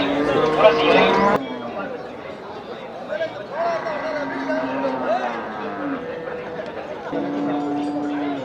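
Cattle at the Melapalayam cattle market in Tamil Nadu let out several drawn-out moos over steady chatter and people talking nearby.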